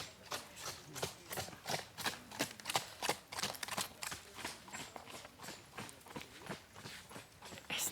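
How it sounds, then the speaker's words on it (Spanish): A horse's hooves clip-clop steadily in an even walking rhythm as a man leads or rides it, fairly faint and continuous with no talk. "Es un señor, un caballo,"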